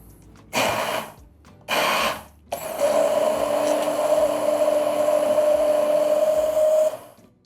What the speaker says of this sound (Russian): И все измельчаем блендером.